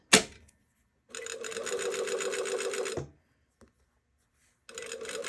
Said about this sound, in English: Okay, so now we have it sewn all the way around.